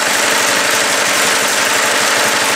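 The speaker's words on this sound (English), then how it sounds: "Listen to that idle." A Predator 212cc engine fitted to a snow blower idles loudly and close up, a constant, dense mechanical rumble with no change in pace and nobody speaking.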